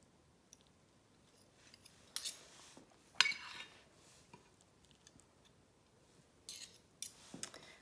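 A spoon and a fork used as pincers lift sole fillets away, making faint metallic clicks and scrapes against a plate in scattered, close bursts with quiet gaps between them.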